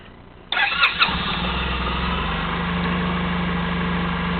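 A 2007 Suzuki Burgman 650 Executive scooter engine cranks briefly, catches with a couple of loud revs, then settles into a steady, close idle, no talking.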